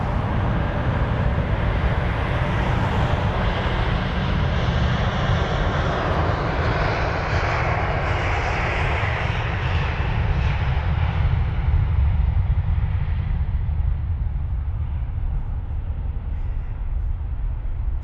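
Qantas Airbus A380 at London Heathrow producing a steady, loud jet engine roar with deep rumble and broad hiss, sustained throughout with no talk.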